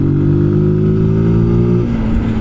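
Motorcycle engine humming close and loud during a calm ride, a steady mid-pitched drone that eases slightly lower toward the end.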